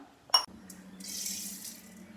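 A short clink, then a soft stream of water runs and splashes into a bowl of unrefined cane sugar for about a second, close by and quiet.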